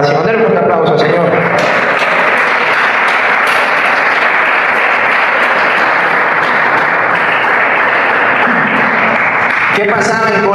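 A church congregation applauds loudly in a dense, sustained wash of clapping that fills the room nearly throughout, with voices calling out within the crowd noise.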